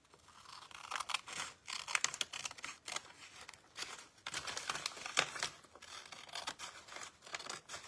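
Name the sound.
cutting paper with scissors for a junk journal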